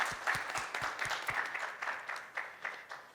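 Applause from a conference audience at a technical geology and exploration talk, moderately quiet and steady across the whole stretch, with dense overlapping claps and no voices.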